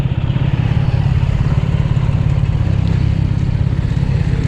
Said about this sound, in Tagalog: ganda naman ang motor